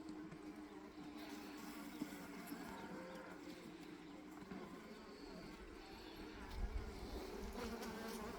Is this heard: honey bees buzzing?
yes